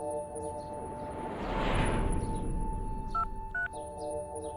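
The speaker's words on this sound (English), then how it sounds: "When Vance calls Piper to check on her, the answering machine picks up instead" Telephone keypad tones are dialed as a call is placed, two short beeps near the end following a swelling whoosh of background noise, with no one talking.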